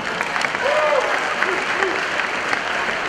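Homecoming crowd at a high school gym claps steadily in a broad, sustained patter, with a voice briefly rising over the noise.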